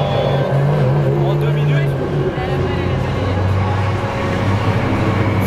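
Race cars in the Ultimate Cup Series at the Castellet circuit, a continuous loud engine drone as cars pass on the track, with people talking over it.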